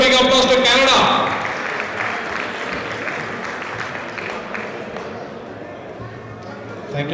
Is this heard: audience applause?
yes